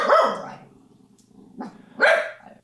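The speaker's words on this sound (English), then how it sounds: "And that's my dog Maddie." A dog barks close by, two sharp barks separated by a short pause, with a softer yelp between them.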